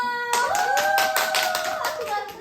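A group of children claps hands in a quick, rapid patter while voices ring out over the applause, lively and close.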